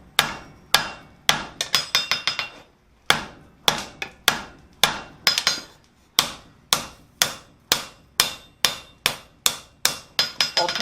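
Sharp, loud hammer blows ring out on hot steel being forged into a flower-shaped coat hook, arriving in quick rhythmic bursts with short pauses between groups, each strike bright and metallic with a brief ringing decay.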